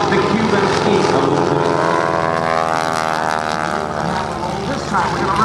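A propeller aerobatic airplane flies at the 2008 Blue Angels Homecoming airshow, its engine drone loud and steady throughout while an announcer talks over it.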